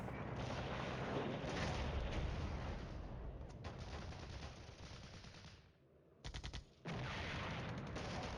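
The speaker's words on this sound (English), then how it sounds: "Rockets." Rocket and missile fire in the Cold War wargame Flashpoint Campaigns, a dense, loud barrage of bursts and roaring launches running continuously for several seconds, dropping away briefly, then a few sharp close blasts before the roar resumes.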